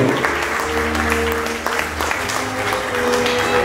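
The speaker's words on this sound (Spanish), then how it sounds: "Para que pido un fuerte aplauso," Sustained applause fills a ceremony hall as two people are introduced, steady clapping from a crowd at moderate volume with a few voices and tonal sounds mixed beneath it.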